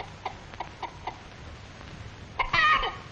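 An old hen on a farm, out of doors near small kittens, gives a few short, soft clucks spaced apart, then a louder burst of quick, squawky calls near the end, with no talk.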